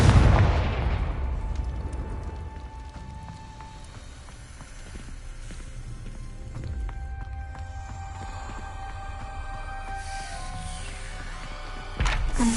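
A Confringo blasting curse detonates in Hogwarts Legacy, a loud explosive boom at the start decaying into rumbling debris, followed by quieter game ambience and another sharp impact near the end.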